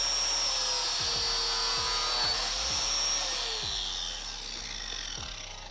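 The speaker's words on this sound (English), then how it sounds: "Let's go trim some plastic" A high-pitched power tool whines steadily as it trims a Silverado's plastic wheel-well liner for 37-inch tires, with a loud continuous buzz marked by regular low thumps and easing off slightly near the end, with no talking.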